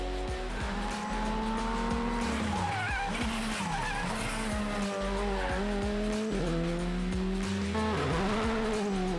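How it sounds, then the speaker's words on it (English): Skoda Fabia rally car on a high-speed competition stage, engine revving hard with repeated gear changes and tyre squeal, loud and sustained as it rushes past close by. "would be Rob Swan in his Skoda Fabia"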